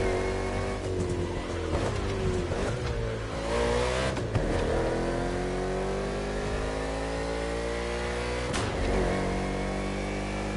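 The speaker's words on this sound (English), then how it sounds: "The green flag is in the air, and we are racing in a purely urban race here in Hawaii." NASCAR race cars tear through an urban street circuit in Honolulu in The Crew Motorfest, engines droning and rising through gears, with tire squeals and a few sharp shifts as the pack races on.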